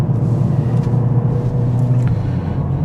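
A 2021 Mercedes CLA45s AMG engine rumbles steadily while driving, a deep continuous growl heard up close with road noise and a few faint clicks over it.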